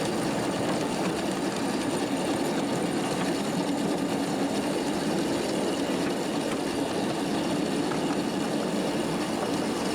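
A miniature railroad train runs steadily along its track on a public ride route around a museum, a continuous loud rumble and clatter with a faint engine hum and no talking.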